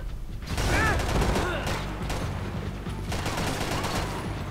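Gunfire crackles in Max Payne 3 as a dense burst of shots and mechanical clatter, loud and close, with a faint voice in the background.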